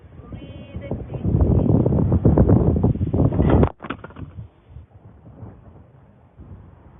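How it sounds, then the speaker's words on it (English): Strong outdoor wind buffets a camera until it is blown over, with loud rumbling gusts and a sudden knock, then quieter breezy rustling. "Apologies, the wind blew my camera over."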